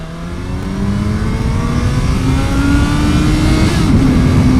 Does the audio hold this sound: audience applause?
no